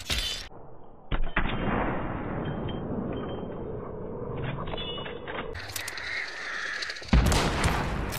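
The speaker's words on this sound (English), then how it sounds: "What incredible shooting." Gunfire in the game Hunt: Showdown, with several loud, sharp shots separated by irregular gaps and a dull, muffled battle din filling the space between them.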